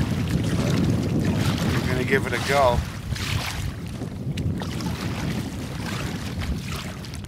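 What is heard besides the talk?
wind on a lake while canoeing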